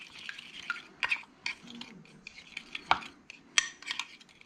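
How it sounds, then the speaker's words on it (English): Spoon stirring hush puppy batter of sheephead fish with ground ginger and green onion in a bowl, soft wet swishes broken by several sharp clinks against the bowl, close and fairly quiet. "Let's give this a stir."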